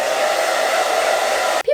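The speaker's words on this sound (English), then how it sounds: "let me use a hairdryer real quick to dry my skin" A hair dryer drying skin around an ostomy blows in a steady, loud, close whoosh with a constant motor hum, then cuts off abruptly near the end.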